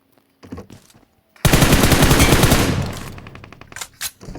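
Loud burst of rapid automatic gunfire in a ranked solo match of a shooter video game, a sustained volley of about a second and a half that tails off into scattered weaker shots and echoes.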